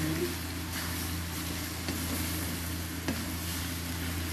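Sautéed bitter gourd with egg sizzles steadily over high heat as it is mixed, a continuous close frying hiss with a few soft stirring scrapes and no talking.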